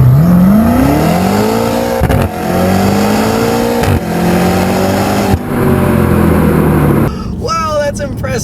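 A 2018 BMW M5 with a 600-horsepower 4.4-liter twin-turbo V8 accelerates hard from a start, its engine note rising steadily through several gears with brief dips at each shift, loud and close from inside the cabin.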